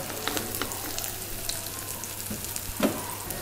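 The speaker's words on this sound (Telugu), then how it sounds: "కట్ చేసి పెట్టుకున్న ఆనియన్ వేసుకుందాం. ఇప్పుడు దీన్ని బాగా ఫ్రై అవనిద్దాం" Chopped onions sizzle and fry in a pan for a cauliflower and egg curry, a steady crackling hiss with a few soft stirring scrapes, no talk.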